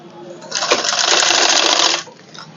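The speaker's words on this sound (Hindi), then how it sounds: "और इस निशान पर सिलाई चलानी है आपको।" A sewing machine runs one continuous burst of close, loud stitching, about a second and a half long, along a marked line on a suit collar.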